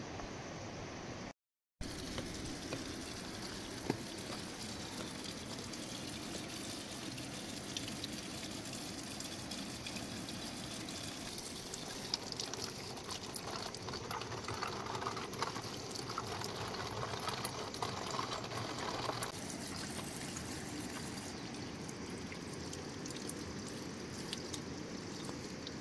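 Water from a mountain spring pouring into a bottle on a remote Himalayan road, a soft steady trickle and gush running continuously for a long stretch, faint and even, after a brief cut near the start.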